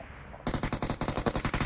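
Rapid automatic gunfire in the mobile battle-royale game PUBG Mobile, a steady burst of about a dozen evenly spaced loud shots that starts abruptly after a brief quiet moment.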